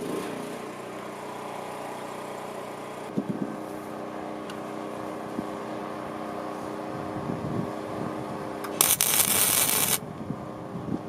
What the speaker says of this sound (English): The problem is the generator bogs and doesn't come up to speed fast enough.